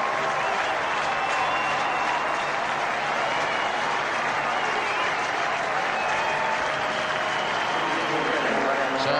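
A big crowd at McLean Park cricket ground in Napier applauds a batsman walking off during a one-day international, sustained loud clapping and cheering that stays dense and even throughout, with a commentator's voice faintly beneath.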